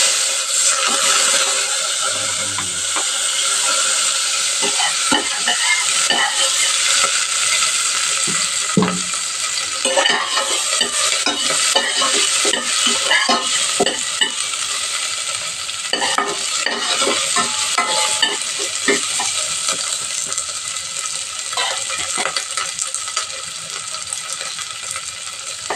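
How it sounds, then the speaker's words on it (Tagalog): Onions sautéing in hot oil in a pan, the first step of a Filipino fish dish, give a loud, steady sizzle under frequent clinks and scrapes of a spatula, with no talking. "Gisa na po natin yung ating sibuyas."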